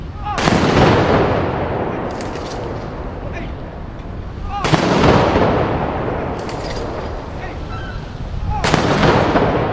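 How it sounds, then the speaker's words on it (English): Three loud rifle volleys crack out from a police honor guard's 21-gun salute at a Memorial Day ceremony, spaced roughly four seconds apart, each sharp blast echoing and decaying outdoors. "We will now hear a 21-gun salute performed today by the Stanford Police Department Honor Guard."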